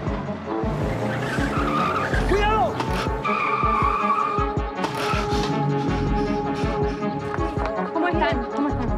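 A car skids hard with screeching tires as it nearly runs someone over, rising squeals and engine noise over several seconds while people shout and talk close by.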